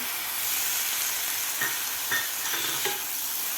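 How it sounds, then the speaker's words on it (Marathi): Finely chopped tomato sautés with onion, coconut, ginger and garlic in a pan for a village-style drumstick masala curry, a steady soft sizzle broken by a few quick stirring scrapes. "आता टोमॅटोसुद्धा आपल्याला व्यवस्थित परतून घ्यायचं आहे थोडंसं सॉफ्ट होईपर्यंत"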